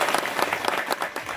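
A crowd in Brahmagaon claps for Shrikant Sanap, a dense, steady burst of applause heard close and alone, with rapid overlapping claps that dip briefly near the end.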